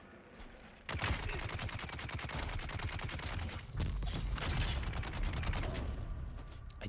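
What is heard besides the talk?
bug cannon firing in video game Dune Awakening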